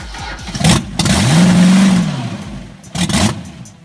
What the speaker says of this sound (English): Judging by the sound of the engine as well